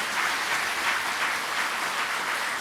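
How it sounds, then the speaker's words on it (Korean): A church congregation applauds steadily at a Korean church consecration service and elder installation ceremony, a dense, continuous clapping from many hands filling the room without a break. "이분들의 수고를 다시 한번 박수로 크게 격려해 주시기를 바랍니다."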